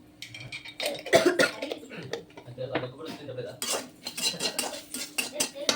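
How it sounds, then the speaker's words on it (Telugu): Dried red chillies and cumin frying in a pan, heard mostly as clattering utensil and pan clinks with scraping stirring, close by, plus a cough and throat clearing partway through. "అండ్ ఎండుమిర్చి కూడా వేసుకోవచ్చు కావాలనుకుంటే. బాగా ఫ్రై చేసుకోవాలి."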